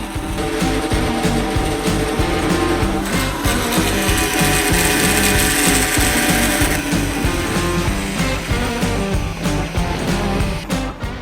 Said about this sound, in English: So 3 passes to cut through 1/8 inch mirror acrylic